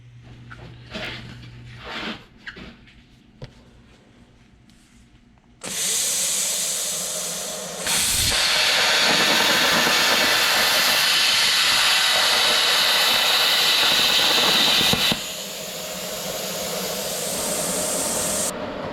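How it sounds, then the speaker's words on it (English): A plasma cutter trims metal on a junkyard Kubota diesel swap project, starting with a few clicks and clanks, then a loud steady hiss-roar running close up for about thirteen seconds with a brief change partway through. "I'll just trim that with plasma."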